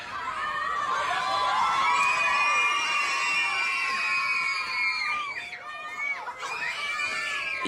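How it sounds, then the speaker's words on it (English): Many children shout and scream together in a crowded, noisy space at school, a dense, continuous roar of high overlapping voices with one kid's piercing scream standing out throughout, loud and sustained. "I hear one kid consistently screaming."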